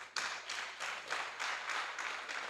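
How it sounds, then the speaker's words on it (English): Conference audience applauding, a rhythmic run of steady claps in even pulses, fairly faint and alone, without voices. "Please give yourself a round of applause"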